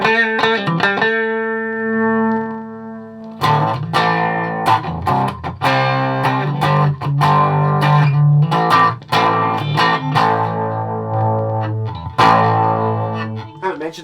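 Guitar through a Vox VT20+ amp on a distortion setting with the gain lowered and reverb on, a ringing chord that fades, then a busy run of picked notes and strummed chords, loud and close.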